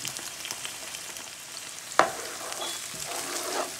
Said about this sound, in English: We're gonna let these onions sweat for just a bit.